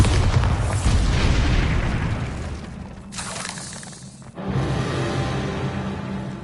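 A Bombarda spell detonating in Hogwarts Legacy, a loud close blast with shattering debris and a long rumbling decay, followed by a second heavy burst near the end.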